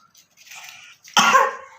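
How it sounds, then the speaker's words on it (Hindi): A parrot gives a short, raspy cough-like sound, a faint hiss followed by a louder rough burst, close up. "खांसी हो गई।"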